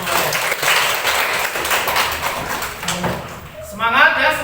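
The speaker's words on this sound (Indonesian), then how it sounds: "tepuk tangan semuanya." A classroom group claps together, a loud dense burst of applause lasting several seconds close by, tapering off as voices begin talking near the end.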